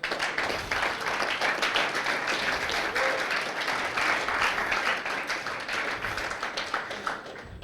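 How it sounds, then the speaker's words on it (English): An audience at a university event in Ikeja, Lagos gives a sustained round of applause, many hands clapping in a steady, dense wash that continues for several seconds. "deserve a round of applause"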